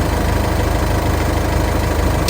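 A car engine idles roughly, apparently starved for air through its air filter or exhaust, during a long road trip home. It makes a steady, loud, close rumble with a faint low pulsing throughout and no talking.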